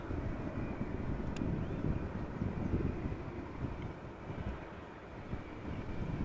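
Narrow-body airliners such as Embraer jets landing on a runway at Amsterdam Schiphol Airport, a steady distant engine roar with heavy wind rumble over the microphone throughout.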